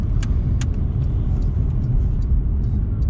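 Porsche 911 Carrera S of the 992 generation driving on a wet road, a steady low road rumble and tyre hiss from inside the car, with a couple of faint brief clicks.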